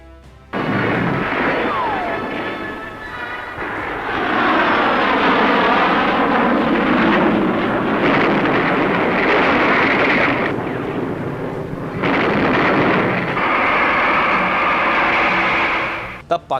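Aerial bombing attack by Pakistani aircraft on Indian airbases in the 1971 Indo-Pak war: loud, sustained roar of aircraft engines with rumbling blasts and artillery-like booms, continuous throughout with a brief lull, and speech faintly present.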